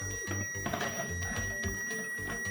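A very old ohm meter emits a continuous high-pitched beep during a continuity test on a BMW Siemens MS41 engine control unit bench setup, a steady piercing whine over low clattering background noise.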